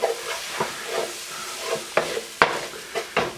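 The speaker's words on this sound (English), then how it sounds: "Go ahead and stir this up before we add our liquid." Chicken and potatoes being stirred in a pan before stock goes in for a French chicken fricassee, with a series of close, sharp spoon scrapes and clacks over a light sizzle, roughly a stroke every half second.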